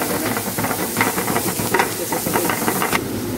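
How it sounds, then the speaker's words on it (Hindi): Chopped onion hits a hot pan with lightly browned sautéed garlic and gives off a loud, dense, continuous sizzling hiss from close by. "इसमें ऐड कर रहा हूँ अभी चॉप ऑनियन"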